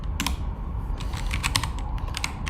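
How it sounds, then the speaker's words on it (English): Rapid typing on a computer keyboard while coding a React function, with steady key clicks in quick bursts over a constant low background hum, no voices. "so I'll just type it out."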